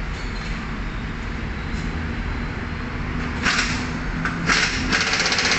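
Tightening a bolt on a Toyota Wigo aux fan motor with a ratchet in a workshop, a steady noisy background broken by short rapid clicking bursts near the end.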